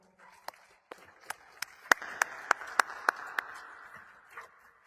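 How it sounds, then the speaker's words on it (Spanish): A small audience at a parenting talk claps for the psychologist Stephanie, opening with a few scattered claps, then a handful of sharp, evenly spaced loud claps over soft background clapping that fades out. "le pido que le demos un fuerte aplauso, por favor"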